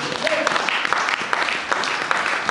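Worshippers in a church congregation applaud the Lord in a dense, steady wash of clapping that fills the room, with voices mingled into the sustained applause.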